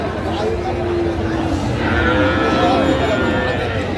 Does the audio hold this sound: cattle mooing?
yes